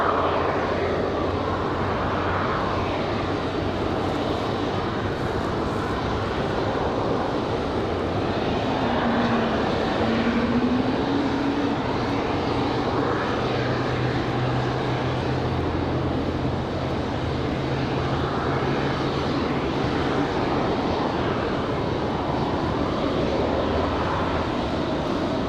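An Icelandair airliner on approach to Raleigh-Durham airport gives a sustained, loud engine rumble with shifting low tones that rise and fall gradually across the whole span.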